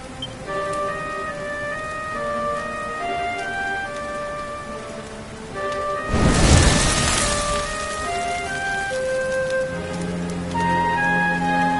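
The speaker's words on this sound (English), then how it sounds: "Looks like the rain's dying down." Steady rain falling in the video game Dragon Quest XI, a constant hiss under gentle tonal background music, swelling briefly into a louder rushing burst midway before settling back.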